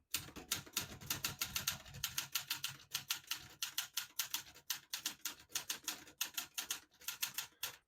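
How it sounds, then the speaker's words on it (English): A 1970 Olivetti Lettera 32 portable typewriter being typed on, keys striking in quick irregular bursts with short pauses, close and fairly quiet, no voices. "Beautiful typing machine."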